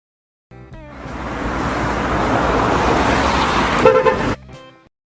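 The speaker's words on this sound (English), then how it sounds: "Taxi." A taxi car drives past with a broad rushing road noise that swells and fades over a few seconds, a short horn toot near the end, no voices.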